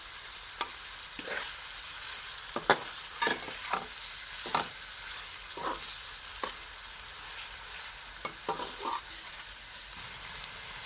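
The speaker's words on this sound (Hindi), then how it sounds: "चिकन फ्राई हो चुका है" Chicken frying in a pan with a steady broadband sizzle, broken by repeated sharp scrapes and clacks of stirring spaced irregularly across the stretch.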